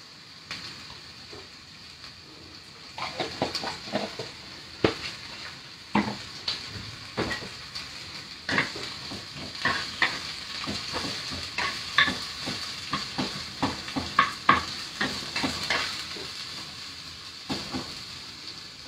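Ingredients in a pan are stirred over the heat with olive oil and salt, giving a gentle sizzle under repeated scraping and clacking of a spoon against the pan, close by, irregular and busy, with no talking.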